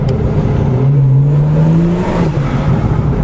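A BMW 340i fitted with an Agency Power intake drives on the road, its engine droning loud and steady from inside the car, with a rising whirring pull partway through before settling back.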